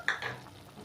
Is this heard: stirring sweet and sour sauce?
yes